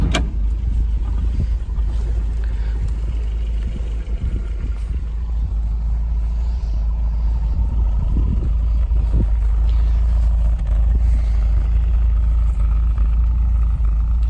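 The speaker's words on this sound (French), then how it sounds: "Échappement avec une sortie inox." A 1971 MGB Roadster with a stainless steel exhaust outlet idles steadily, a low, constant rumble close by that holds even for the whole stretch, with faint clicks on top.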